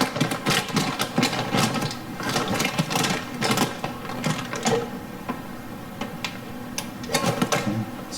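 A heat sealer presses a double seal across a food storage bag for long-term prepping storage, giving a run of close mechanical buzzing and clicking pulses, steady and fairly loud with no talk.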